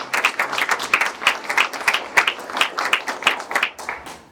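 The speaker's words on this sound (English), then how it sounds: "So can we give an extra round of applause?" An audience applauds at a civic talk on the Constitution, a steady patter of many hands clapping in quick, even rhythm, moderately near and alone with no voices over it.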